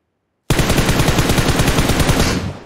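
Rapid automatic gunfire from PUBG Mobile starts abruptly and keeps going as a loud, close, steady stream of shots that fades slightly at the end.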